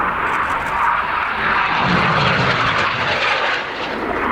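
A display aircraft's engine roars steadily and loudly at the RAF Cosford airshow, a broad continuous drone filling the whole stretch with no talking.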